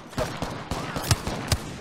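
Gunfire in the Apex Legends battle royale game, a quick burst of several sharp shots followed by two louder single bangs, close and punchy over faint game ambience.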